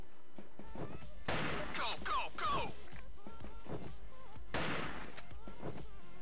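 Sniper rifle fire in a video game, two sharp, loud shots with a bright crack each, about three seconds apart, amid quieter game sounds.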